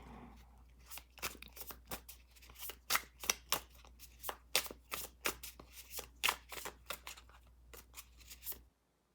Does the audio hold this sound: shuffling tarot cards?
yes